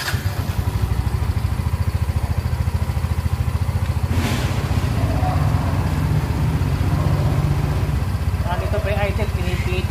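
A Yamaha Mio i 125 fuel-injected scooter engine idles steadily and close by for the full stretch, a low continuous putter with a brief rise midway, while the idle is being adjusted after cleaning.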